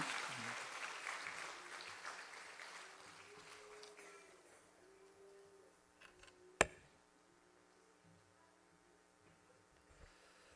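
Applause from a church congregation during a Sunday service fades out over the first few seconds, followed by quiet room noise and a single sharp knock.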